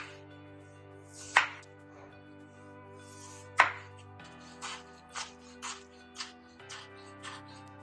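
Knife slicing peeled potato into thin sticks on a board, a series of crisp separate cuts, two sharper ones early then several lighter chops at a quicker pace, close and clear with no voices.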